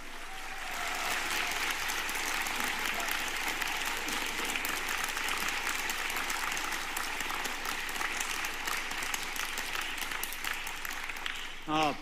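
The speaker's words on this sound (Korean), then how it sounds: "여러분 큰 박수로 환영해 주시고 맞아" A church audience gives a pastor a long, steady round of applause, a dense, even wash of many hands clapping at moderate distance for about twelve seconds with faint voices beneath.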